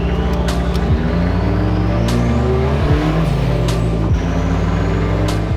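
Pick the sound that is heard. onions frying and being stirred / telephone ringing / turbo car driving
turbo car driving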